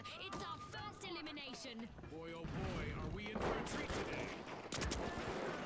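Rapid bursts of turret gunfire in a video game rattle out over dense, layered combat noise, with steady sustained firing throughout and sharper hits near the end; players talk over the action.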